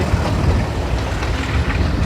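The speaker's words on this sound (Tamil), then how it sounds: "பீச்சுக்கு பக்கத்தில் ட்ரெயின்." A train rolls past close by near a beach in Sri Lanka at evening, a steady loud rumble of wheels and carriages filling the whole moment.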